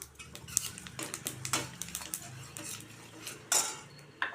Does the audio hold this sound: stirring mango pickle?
yes